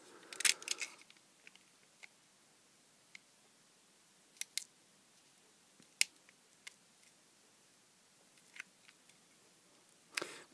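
Blade cutting into a soft silicone gel coating on an LED lamp, heard as sparse small clicks and snips scattered across the quiet, with a slightly fuller rustle at the start and end.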